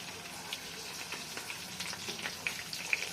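Mustard, fenugreek and cumin seeds fry in hot oil as tempering for a fish curry, making a close, steady crackling sizzle with small sharp pops scattered through it and no voices.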